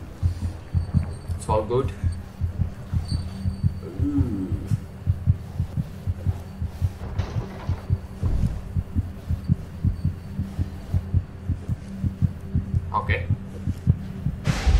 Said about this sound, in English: I hear heartbeat sounds.